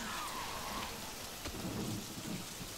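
Steady rain with low rumbling thunder in the King Kong video game, a constant wash of falling water with a deep roll underneath, alone without voices.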